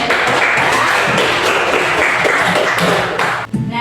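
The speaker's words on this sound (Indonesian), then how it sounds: "kita beri aplaus untuk teman-temannya" Classmates in a high school classroom applaud together, a dense, steady clapping that fills the room for several seconds before tapering off near the end.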